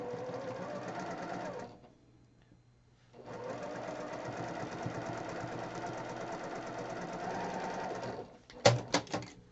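A sewing machine runs in steady bursts while stitching quilt block pieces for a Christmas block-of-the-month pattern, pausing briefly midway, then a few sharp clicks and knocks near the end.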